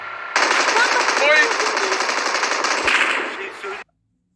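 Rapid automatic gunfire from PUBG Mobile gameplay rattles out in one sustained, dense burst of about three seconds, loud and close, then cuts off abruptly.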